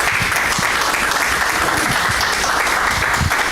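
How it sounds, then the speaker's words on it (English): Dense, loud, sustained applause from a large audience at a wellness symposium fills the room without a break, steady clapping close by with no talk over it. "Let's give him another round of applause."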